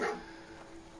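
A dog from the video game Fallout 4 gives a single short bark, fairly close and loud, then the sound fades into a steady game background.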